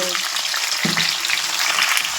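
Vegetables sizzle and crackle steadily in hot oil, with a brief stirring scrape partway through.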